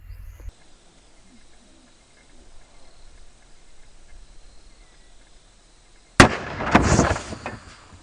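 A single Hornady Critical Defense .223 73gr FTX rifle round is fired into ballistic gel. One sharp, loud report breaks a long, quiet stretch of faint insect-like background, then decays quickly.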